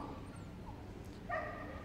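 A Belgian Shepherd Malinois, a nervous rescue dog at the Crufts agility cup final, lets out one short, sharp bark near the end amid faint arena background noise.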